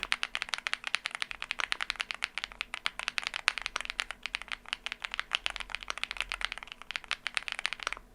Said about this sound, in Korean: 바로 타건 사운드 들려드릴게요.